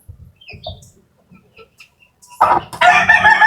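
Chickens clucking and a rooster crowing behind a farm building, with soft scattered clucks at first, then loud, close crowing and squawking near the end.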